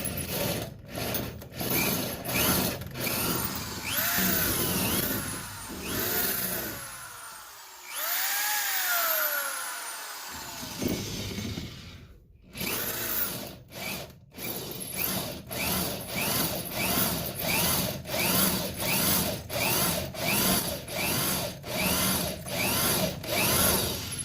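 A power drill boring out a broken cylinder head bolt on a 1994 Camaro engine, whining steadily in repeated pulsing bursts with a few short pauses and one quieter stretch.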